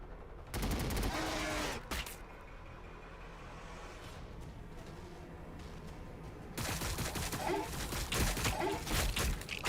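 Rapid gunfire bursts in the strategy game Warhammer 40K Battlesector, a loud volley at the start, a quieter stretch of distant battle noise, then another sustained burst of shooting near the end.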